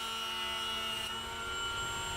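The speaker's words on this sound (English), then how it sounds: "we'll turn the planer into a buzzer" A battery hand planer converted into a buzzer runs steadily, a dense whirring motor drone with tonal whine, close and loud throughout with no talk.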